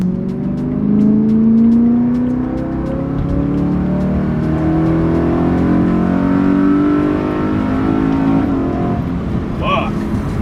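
A BMW E92 M3 accelerates while on the road, its engine note rising steadily in pitch from inside the cabin, loud and continuous throughout with a shift near the end, while a person speaks briefly over it.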